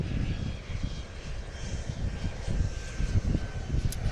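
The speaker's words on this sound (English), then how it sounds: "we check out this Cessna Citation Latitude" A Cessna Citation Latitude business jet at Palomar Carlsbad airport makes a steady, broad engine roar, distant and continuous, with no talk over it.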